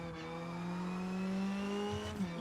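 Skoda rally car engine in a sim racing game, a steady droning tone held close and loud, with a brief shift near the end.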